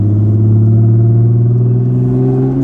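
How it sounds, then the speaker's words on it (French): A turbocharged thirty-year-old car's engine drones loud and close, holding a steady rising rev with strong low harmonics that climb slightly in pitch before easing off. "maintenant, tu as le son du turbo"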